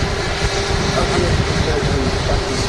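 A Jet2 Airbus A330-200 airliner passes with a broad, steady engine roar buffeted by wind noise, loud and continuous, with someone talking over it.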